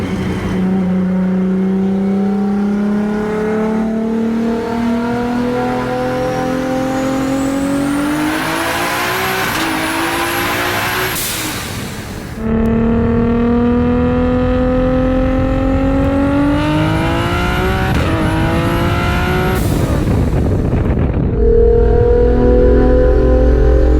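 Nissan R32 GT-R making 1100 horsepower, fitted with a PPG sequential gearbox and launched on brake boost, accelerating hard through the gears: a loud, close engine wail climbs steadily in pitch, drops sharply at a shift near the middle, then climbs again, with tire noise.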